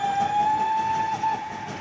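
A cartoon train whistle in a children's animated show blows as one long, steady, loud tone lasting nearly two seconds, with a brief dip and a second short blast near the end over soft rumbling.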